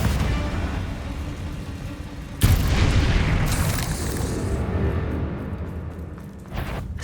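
A Confringo blasting curse detonates in Hogwarts Legacy with a loud sudden boom that rolls into a long rumbling decay, layered over a dense background of game combat noise and a second smaller burst near the end.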